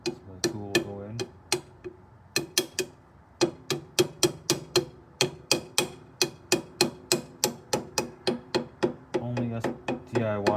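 A hammer drives the crank pulley back onto a Subaru STI engine during a timing belt job: a long run of sharp metallic blows at a steady rhythm, close and loud, with brief pauses, and no one talking.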